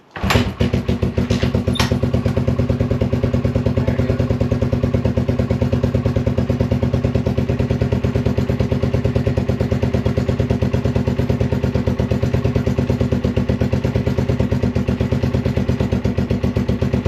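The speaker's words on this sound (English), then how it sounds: "Engine's running great too" A Honda motorcycle engine runs steadily after a valve adjustment, a continuous close, loud idle with an even mechanical clatter throughout and no voices.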